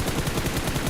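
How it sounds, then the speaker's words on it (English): Rapid automatic gunfire aimed at hovercrafts during a PUBG Mobile esports match fills the second, a dense, loud stream of evenly spaced shots with no pause and no talk. "finally, we're shooting hovercrafts"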